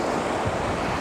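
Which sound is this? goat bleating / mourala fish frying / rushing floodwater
rushing floodwater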